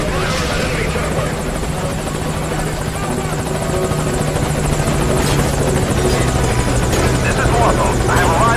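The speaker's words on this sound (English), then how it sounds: "Focus all your fire on that enemy chopper." An enemy helicopter in the video game Metal Gear Solid V: Ground Zeroes drones loudly and continuously with a close, steady rotor buzz, voices mixed in beneath it.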